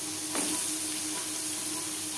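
Chopped bottle gourd drops into a hot pan of oil with cumin and dry red chillies, giving a brief burst of sizzle that settles into a softer, steady frying hiss.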